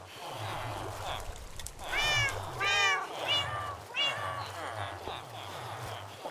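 A Minecraft cat meows several times in quick succession, three or four wavering cries close by, over steady low background noise with a player voice talking at times.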